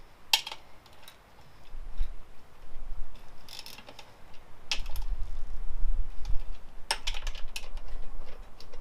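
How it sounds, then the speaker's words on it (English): Socket wrench with a 10mm socket ratcheting bolts off a motorcycle front fender during a fork gaiter install, heard as sparse sharp clicks and short ticking bursts over low workshop rumble, with no talking. "It's just 10mm socket."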